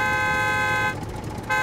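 A car horn in the survival video game SCUM blares in a sustained tonal honk with a short dip in the middle, loud and close, with no talking.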